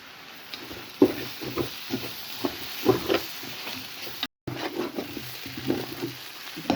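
Kottu roti being stirred and fried in a pan, with a moderate sizzle broken by repeated scraping and clattering strokes of the utensil, a brief dropout midway and no talk.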